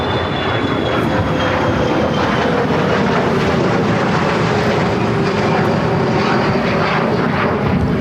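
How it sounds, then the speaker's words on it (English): A Gulfstream 4 jet taking off at LAX, a loud, continuous, broadband engine roar that holds steady throughout, close and dominant with no talk. "That is a Gulfstream 4 taking off"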